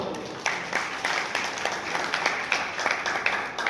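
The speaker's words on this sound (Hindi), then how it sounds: "जोरदार तालियों से उनका स्वागत हो" A crowd at a district conference of a farmers' and labourers' union claps in welcome, moderately quiet, uneven hand claps with distinct sharp peaks running throughout.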